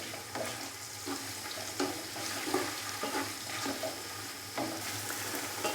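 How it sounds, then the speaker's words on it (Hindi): Onions frying in a pan until light brown, a steady close sizzle with small crackles and bursts of popping throughout, no voices. "प्याज को हमने लाइट ब्राउन होने तक फ्राई कर लिया है"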